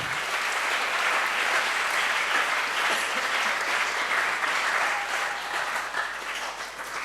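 An audience at a talk show breaks into sustained, even applause, a dense crowd clapping at steady volume for several seconds before tapering off slightly at the close.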